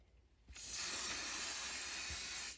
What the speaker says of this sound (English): then you're just going to spray the back